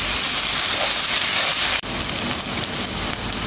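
Onion, garlic, tomato and ginger sautéing in a pan, a loud continuous hiss and sizzle held close, broken once by a brief dip and a sharp tap.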